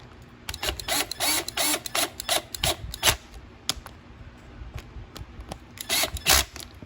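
A power drill drives a fastener on a 2015 Yard Machine lawn mower with a 163cc Briggs & Stratton engine. It whirs in repeated short, close bursts separated by brief pauses, ending with a couple more runs.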